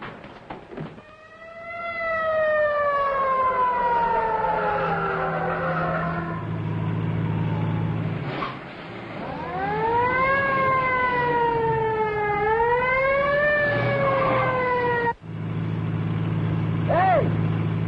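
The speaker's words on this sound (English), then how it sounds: "Follow that ambulance" A wailing ambulance siren rises and falls in long sweeps over a steady engine rumble, loud and close, with a brief break partway through.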